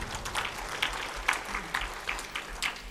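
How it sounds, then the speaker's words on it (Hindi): A sparse, limp smattering of audience clapping at a spiritual motivational talk, scattered claps coming quietly and unevenly over a soft room background. "तालियां ऐसी बजाते हो मरी मराई"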